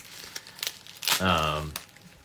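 A card package sealed with packaging tape is pulled open in a brief, close burst of crinkling and tearing, with a voice heard briefly mid-clip.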